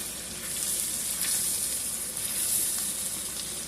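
A T-bone steak fries in a pan, producing a steady, close, crackling sizzle that holds at an even level throughout, with no voices.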